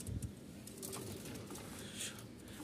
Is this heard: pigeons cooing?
yes